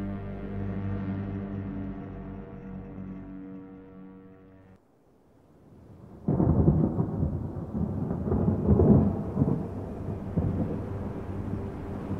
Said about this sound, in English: Rain fell that day from clouds that scarred the sky like bruises on a newborn skin.